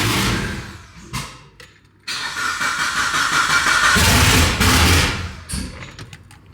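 A Mitsubishi Evo 9 with a built engine and new turbo setup cranking and catching, with uneven bursts of engine noise and hissing, brief dropouts, then a rough rising run that falls away near the end.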